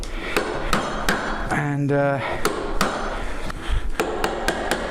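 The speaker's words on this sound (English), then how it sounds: "It always gives you a good shaped hole, if your chisel's sharp, that is." A chisel is struck again and again to cut a hole in wood for a mailbox post, producing about a dozen sharp, close knocks in an uneven rhythm, with a brief voice in the middle.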